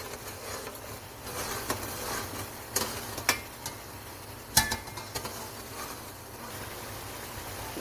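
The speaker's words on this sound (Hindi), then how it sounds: "इसको हम मसाले को भूनेंगे अच्छे से 5 मिनट" Shan korma masala frying in oil, a soft continuous sizzle with scattered clicks and taps of a spoon stirring against the pan, no voices.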